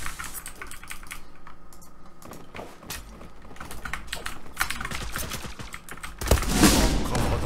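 Computer keyboard typing during a Zula match, a steady run of close, crisp key clicks with game gunfire and sounds mixed underneath, growing louder and busier near the end.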